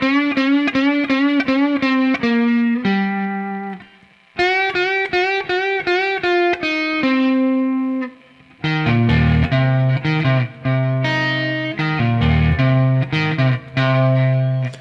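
A distorted electric guitar plays a part from an album: bright, rhythmic picked notes and chords in phrases separated by brief pauses, loud and alone.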